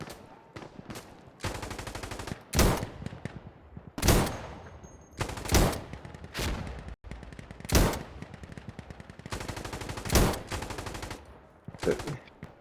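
Rapid automatic gunfire from the tactical shooter game Insurgency Sandstorm, with repeated loud bursts and single sharp shots spread across the clip, close and dominant with no talking.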